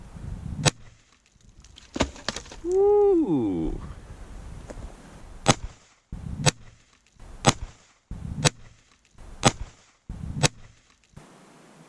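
Sharp gunshots fired through a pillow with a handgun, about seven spaced cracks at a steady pace, preceded by a short whooping voice and light talk.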